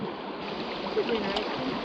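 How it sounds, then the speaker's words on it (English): Water in a creek sloshing and splashing close by, a broad steady wash of noise with a slightly stronger burst about halfway through. "I just splashed the heck out of you"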